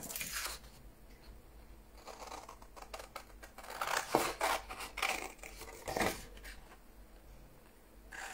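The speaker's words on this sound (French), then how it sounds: "Donc, je vais couper ce qui ne m'intéresse pas," Scissors snipping paper while trimming a Stampin'Up photo cube craft, a series of close, quiet cuts and crisp rustles clustered in the middle, with soft handling noise between them.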